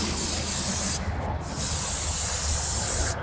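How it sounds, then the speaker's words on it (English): Brake cleaner sprays steadily from an aerosol can onto a greasy RV trailer hitch: a loud, close hiss with two short pauses and no talking. "Just take you some brake cleaner"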